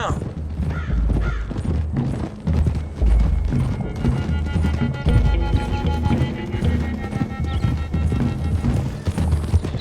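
Horses' hooves clip-clop steadily on a trail in the Red Dead Redemption 2 video game, with a whinny and crow caws over a loud, busy background and occasional talk.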